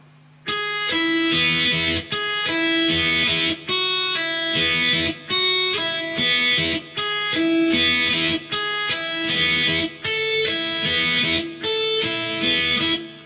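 A distorted electric guitar plays a slow riff of held note groups, each ringing for about a second, repeating in a steady pattern with no talking.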